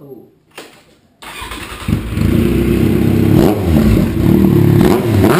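A Kawasaki Z750 motorcycle with a newly fitted exhaust cranks and fires up, then settles into a loud, steady rumbling idle close by, with faint voices at the start.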